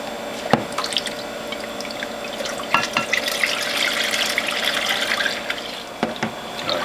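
Watermelon juice with ginger and turmeric is poured from a container into bottles, giving a steady liquid trickle with scattered drips and a few sharp clinks, moderately close, with no talking.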